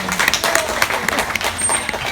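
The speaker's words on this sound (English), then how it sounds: "Let's give her a big round of applause." Audience applause at a dolphin show at Dolphin Marine Conservation in Coffs Harbour, a steady patter of clapping from an outdoor crowd with scattered louder claps throughout.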